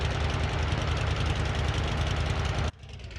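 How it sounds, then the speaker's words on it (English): Biplane engine in Flight Simulator 2020, a steady loud droning run that cuts off abruptly near the end, leaving quieter residual noise. "Engine start."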